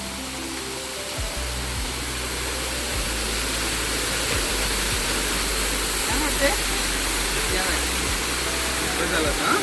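A waterfall at Rudreshwar temple roars as a steady, loud wash of rushing water that fills the whole stretch, with faint voices underneath.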